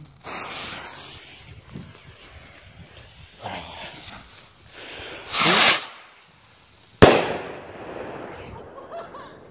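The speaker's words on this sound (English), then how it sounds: "Those are bottle rockets on steroids." Large bottle-rocket fireworks going off in a back yard: a few scattered whooshes and crackles, then a loud rushing burst and a sharp bang, with distant crackling and some muffled background noise in between.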